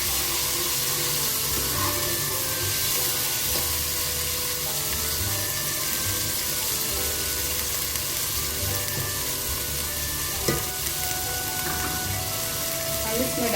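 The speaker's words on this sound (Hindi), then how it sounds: "इसके साथ हम डालेंगे लहसुन अदरक का पेस्ट। थोड़ा सा 1 मिनट इसको भून के" Ginger garlic paste fries in a pan for Peshawari namkeen gosht, a loud dense sizzle with crackling spatters and an occasional clink of the spoon. A faint voice is heard now and then.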